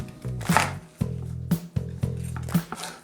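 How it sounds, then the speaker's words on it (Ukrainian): A knife chops napa cabbage for a chicken and orange salad in close, steady strokes roughly every half second, each a crisp thud on the board. "подрібнюємо пекінську капусту"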